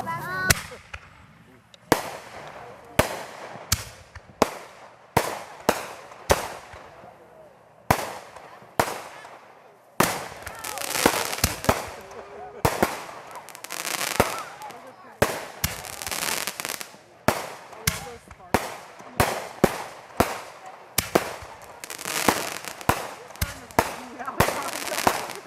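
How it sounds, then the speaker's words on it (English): Fourth of July fireworks burst outdoors in a long series of sharp, loud explosions and crackles at irregular intervals, growing denser toward the end, with people talking and cheering faintly between blasts. "fireworks are getting ready to start"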